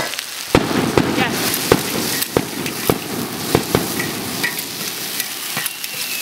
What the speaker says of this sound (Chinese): 2颗螺丝，来炒一下，再把笋下进去